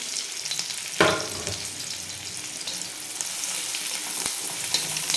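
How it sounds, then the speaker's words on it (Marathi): Chopped onion hits hot oil in a pan on a tava, starting with a sharp burst of sizzle that settles into steady close frying with faint stirring. "एक छोटासा कांदा आपण कापून घेतला आहे तो टाकून घेऊ आपण"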